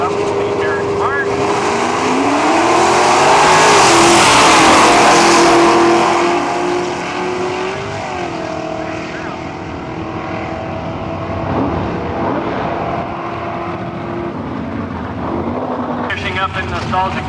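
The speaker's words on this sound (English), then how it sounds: "Let's see if the Maverick makes it off the top end of the track." A drag racing car accelerates down the track at a nostalgia drag racing event in Cayuga, Ontario, its loud engine roar building and sweeping past, then fading into the distance under crowd and track ambience.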